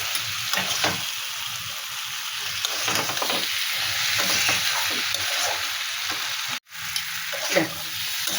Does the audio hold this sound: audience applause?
no